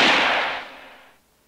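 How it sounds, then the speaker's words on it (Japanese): A single sharp gunshot in a horror video game, loud and close, with a long echoing decay that fades out over about a second, no voices. "その時いきなり銃声が響き渡った。"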